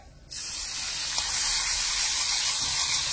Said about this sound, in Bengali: কড়াইটা গরম হয়ে গেছে, দিয়ে দিচ্ছি সামান্য একটু বাটার